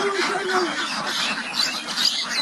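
Ducks on a duck farm quacking and squawking in a dense, overlapping chorus at moderate distance, with a voice speaking over the calls.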